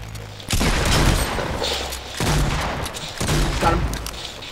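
Gunfire in a Fortnite Battle Royale match: three loud bursts of shots, each sharp attack tailing into a rumble, spaced about a second or two apart, with no talking over them.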